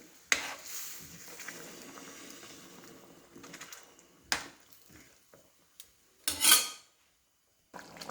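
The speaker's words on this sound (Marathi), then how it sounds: "शिजवलेला शेवगा घालून व्यवस्थित मिक्स करून घ्यावे." A spoon scrapes and knocks against a pan while cooked drumsticks are stirred into vegetable curry, in a few sharp clinks and a louder scraping rattle set among quieter stirring.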